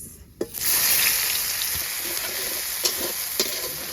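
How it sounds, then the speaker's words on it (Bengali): Cumin and chopped onion tempering in hot oil left from frying fish, with a sudden loud sizzle burst that settles into steady crackling frying plus a few sharper pops. "আজকে মাছ ভাজিছি ওই তেলেই ফোড়ন দেব জিরে পেঁয়াজ"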